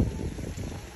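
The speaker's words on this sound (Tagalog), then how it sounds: "Pero malakas yung hangin." Strong wind buffets the microphone at a hilltop shrine overlooking the sea, a dense low rumble that fills the whole second without a break.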